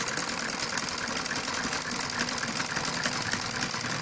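A sewing machine stitches silky fabric in a fast, even mechanical whirr, steady and fairly close, with no voices over it.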